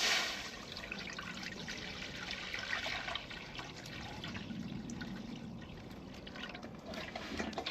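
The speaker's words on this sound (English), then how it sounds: "So I've just put water in my wok." Water poured into a hot wok to be brought to the boil gives a steady, moderately faint trickling and splashing that runs unbroken for several seconds, with no voices.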